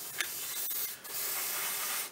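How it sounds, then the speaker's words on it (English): An airbrush sprays paint thinned about half and half at roughly 15 psi, a steady close hiss that stops briefly and then resumes. "We've thinned the paint 50-50 roughly, and we're spraying roughly at about, probably laying it down about 15 psi."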